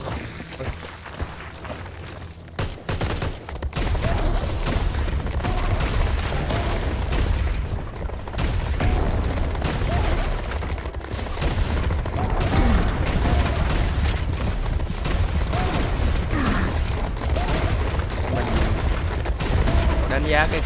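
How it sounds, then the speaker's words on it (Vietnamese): Rocket launcher fire and explosions in the video game Serious Sam 4, a dense barrage of loud booms and blasts packed close together, with someone talking over much of the action. "Ah, an authentic ancient Roman rocket launcher."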